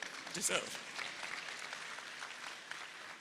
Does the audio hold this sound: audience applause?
yes